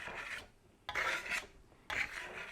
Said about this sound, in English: I'll let this set up and I'll burnish it one more time